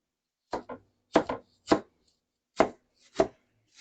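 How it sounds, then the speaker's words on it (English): A knife chops through fresh rhubarb stalks on a cutting board in crisp, close thuds, first in quick pairs and then in single strokes spaced apart, with no talking. "So we're just going to go to chopping all this up."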